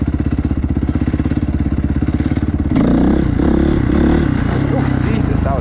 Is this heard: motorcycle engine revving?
yes